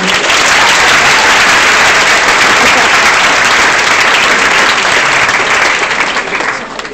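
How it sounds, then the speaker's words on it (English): Loud, sustained applause from a large audience at a hypnotist's show on a college campus, constant throughout and tapering slightly at the end. "Let's give another round of applause now."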